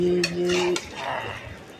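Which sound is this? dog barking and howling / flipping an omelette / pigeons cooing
flipping an omelette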